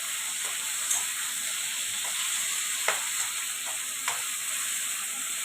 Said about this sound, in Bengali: আলুটা মজে আসলে একটু হালকা ফ্রাই হবে, ফ্রাই হয়ে গেলে দেখো বন্ধুরা, হালকা ফ্রাই হবে আলুটা